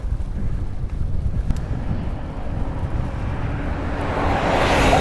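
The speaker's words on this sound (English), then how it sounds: "It is really windy up here though." Strong wind buffets the microphone while cycling on a high bridge in Osaka, a continuous low rumble that swells louder toward the end.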